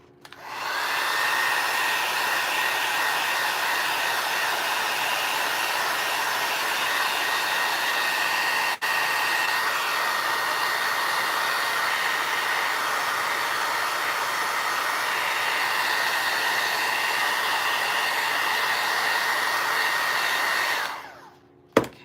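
A hair dryer or heat gun runs steadily and loudly for about twenty seconds, drying paint on small floral molds for Easter craft signs, then cuts off with a click.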